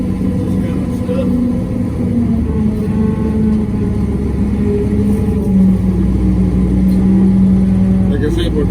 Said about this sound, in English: All-terrain truck, buddy.